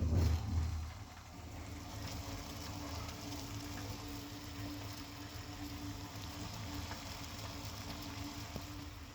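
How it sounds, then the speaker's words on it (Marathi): Lemongrass tea boiling in a pot, a steady low bubbling rumble with a faint hiss that holds evenly throughout, slightly louder at the start, with no voices. "चहा उकळतोय, 5 मिनिटं उकळून देऊ"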